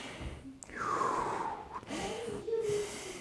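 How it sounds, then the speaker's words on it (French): Slow, deliberate breathing for a cardiac coherence exercise: a long audible inhale, then a sighing exhale with a slight wheeze. The breaths are close and breathy, with no words spoken. "je fais ma respiration"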